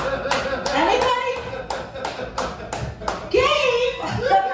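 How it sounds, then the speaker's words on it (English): A comedy club audience claps in short scattered bursts of several hands, sharp separate claps rather than sustained applause, with a performer talking between them. "I want you to clap, okay?"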